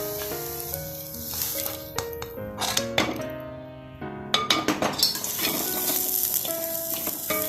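Fish peera made with kozhuva is stirred in a pan, with repeated scraping and clinking strokes of a spoon over a soft frying sizzle, close and fairly loud, with no talk.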